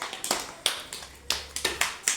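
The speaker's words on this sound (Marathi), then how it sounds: "चला, सयुरीसाठी टाळ्या वाजवा सगळेजण." Children in an anganwadi class clap for a classmate, about a dozen sharp, uneven claps scattered over a couple of seconds, fairly soft and close, with no talking.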